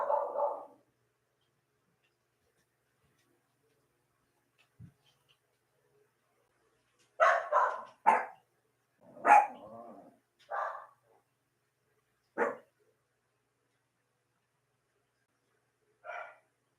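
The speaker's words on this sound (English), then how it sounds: "What are they barking about?" Several dog barks come in short bursts, some single and some doubled, spread across a quiet indoor room with long silent gaps between them, moderately close.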